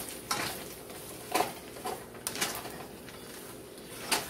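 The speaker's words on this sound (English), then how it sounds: "Stir all of that in because you don't want to burn your noodles." Buttered noodles being stirred in a pan on medium heat: a utensil scrapes and clinks against the pan in several distinct strokes over a soft, steady sizzle, with no talking.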